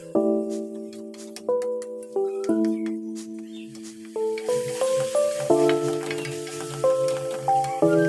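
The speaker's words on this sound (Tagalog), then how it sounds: "Simmer lang po muna natin guys, hanggang sa manuot ang lasa sa ating giniling na karne." Ground meat sauce for sweet-style Filipino spaghetti simmers in a pan with a soft, close sizzle, while tonal background music plays over it throughout and there is no talking.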